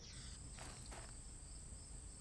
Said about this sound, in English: Oh yeah, you can hear it in here too, chirping. Nighttime chirping.